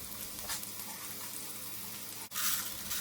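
Onion and garlic frying in oil in a pan as aromatics for Mexican rice, a soft continuous crackling sizzle with a light stir partway through, close but fairly quiet.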